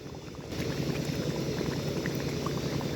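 Herbal hair oil cooks in a pot while stirred with a wooden stick, a steady close bubbling and churning of thick liquid that swells slightly after a brief quieter start.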